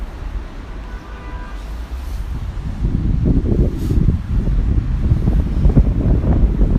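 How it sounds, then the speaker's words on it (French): Strong wind gusts blow straight into the microphone on a railway station platform, a heavy low rumbling buffet that swells louder after the first few seconds and keeps surging. "Ceux qui étaient quai numéro 1 là, ils ont senti le vent souffler aussi, tout comme nous dans le micro."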